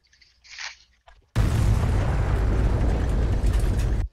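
A nuke in Garry's Mod goes off with a sudden, loud, sustained roaring blast that fills the rest of the moment, following a few quiet game noises.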